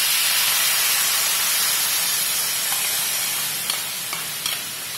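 Ground salted mango paste poured into a hot pan after the gas is switched off, giving a loud, dense sizzle and bubbling hiss that slowly fades, with a few light clicks near the end.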